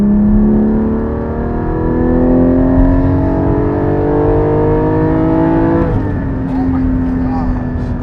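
Porsche Cayman GT4 engine revving loud and close, a steady climbing engine tone that rises for several seconds, then drops as the revs change and builds again.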